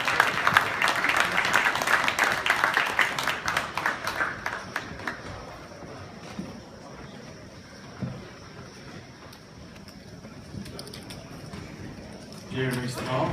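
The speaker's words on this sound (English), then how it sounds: "Let's give it a round of applause for Dan O'Brien." Applause from a World Series of Poker audience, strongest at first and gradually thinning into scattered claps, with voices talking over it toward the end.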